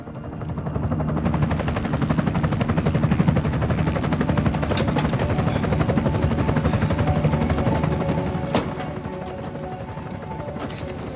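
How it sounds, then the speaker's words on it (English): Rapid rotor thumping of a helicopter runs steadily, fairly loud and close, with a couple of sharp clicks near the end. "Get my helicopter."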